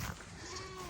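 A goat bleats once on a farm in Naujan, Oriental Mindoro, Philippines: a brief wavering cry heard fairly close against quiet background noise.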